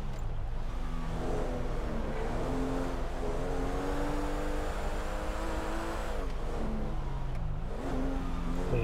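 A Chevrolet Opala-style car in GTA 5 drives and accelerates with a steady, loud engine drone, its pitch climbing and dipping through gear changes and rising again near the end, with no voices over it.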